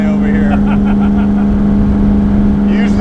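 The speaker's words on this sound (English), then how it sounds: "Such a nice race car sound" A 1965 Shelby Cobra F.I.A. replica race car idles close by, its engine giving a loud, steady, deep rumble with a strong low hum throughout. There are faint blips near the start and end.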